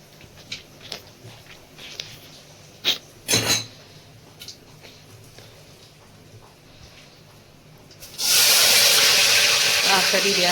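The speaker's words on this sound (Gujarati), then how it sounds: "આ કરી રહ્યા છે વઘાર." Spices hit hot oil for a Gujarati vaghar before the rice: a sudden loud, steady sizzle and hiss bursts in near the end and holds, after quieter kitchen clinks and a few brief sounds.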